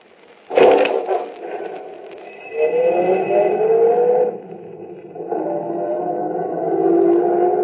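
A taxi drives along a street. A sharp thump comes first, then the engine pulls away and revs with rising pitch. The engine is close and fairly loud and continues throughout.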